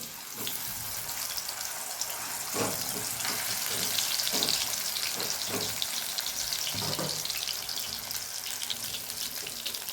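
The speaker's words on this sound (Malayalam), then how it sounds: "നമ്മൾ നേരത്തെ മസാലകൾ പുരട്ടി വെച്ചിരുന്ന ചേന കഷ്ണം ഉണ്ടല്ലോ അത് ഇട്ട് കൊടുത്ത് കുറേശ്ശെ വറുത്ത് പോരാം" Spiced pieces of yam frying in hot oil, a continuous close sizzle with several soft stirring or placing knocks spaced through it.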